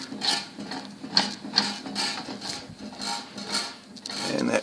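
The hand crank on a 1948 AMT table saw is turned to raise the blade, giving a close series of rhythmic metallic ratcheting and rubbing strokes, each about half a second apart, with no voices.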